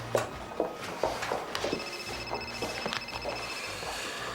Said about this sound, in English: you gonna answer that? Oh, it's not mine, it's Regan's